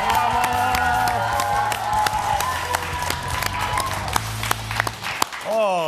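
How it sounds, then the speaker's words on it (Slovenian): A television sports studio audience claps and cheers continuously, with scattered whoops and sharp individual claps over a loud steady crowd roar. "tako se lijepo navija u studiju Sporta nedjeljom"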